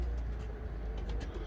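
Pedigree pigeons cooing in a loft, soft low murmuring coos under faint, steady background noise.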